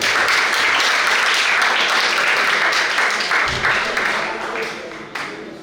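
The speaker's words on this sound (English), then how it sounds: "Please let's give the lady in the audience a round of applause." An audience at a school science and maths quiz gives a round of applause for a lady in the crowd, sustained clapping that gradually tapers off near the end.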